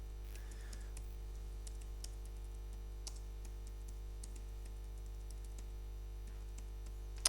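Keys on a computer keyboard click faintly in short irregular bursts as text is typed into PowerPoint, over a low steady hum.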